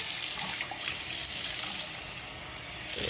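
Water from a tap gushes steadily into a backed-up kitchen sink, a continuous close splashing hiss with slight surges and no talking.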